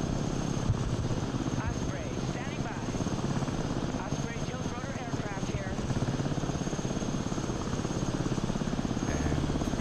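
Military helicopters in the real-time strategy game Broken Arrow, a continuous close rotor chop and engine whine with steady rhythmic thumping, with speech heard over it.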